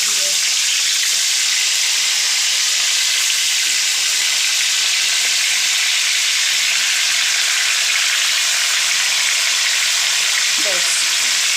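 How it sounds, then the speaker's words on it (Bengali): Meat frying in hot oil in a wok, a loud, continuous hiss close to the pan with a few faint clicks of stirring underneath. "মাংসগুলো দিয়ে দিয়েছি, এবার এটা হালকা হালকা করে ভেজে নেব"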